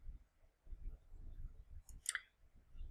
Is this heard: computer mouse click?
yes